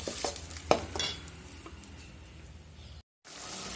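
Tomatoes and onions for tomato rice sauté in a pan with a soft, steady sizzle, broken by a sharp clink of a spoon against the pan near the start. The sound is quiet and close, then drops out briefly near the end.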